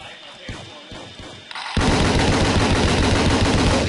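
Gunfire in the Roblox Battlefield game: a few spaced single shots, then a loud, sustained burst of rapid automatic fire that fills the rest of the moment, close and dense.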